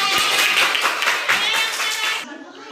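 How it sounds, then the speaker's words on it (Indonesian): A classroom of primary school pupils claps for a student group, a brief burst of hand clapping that stops abruptly near the end. "beri tepuk tangan untuk kelompok 3"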